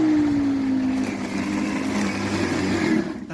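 The motor of a Worx WG927E 40V cordless lawnmower runs with a low whirring hum that wavers and strains, its pitch sagging and recovering close by before it cuts out at the end.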